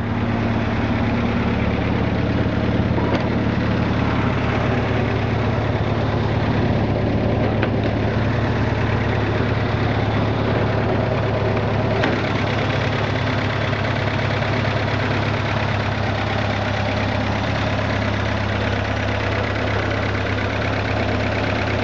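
A carbureted AMC 150 four-cylinder in a 1984 Jeep DJ-5M idles steadily and close by, a continuous low rumbling drone with slight vibration and no breaks.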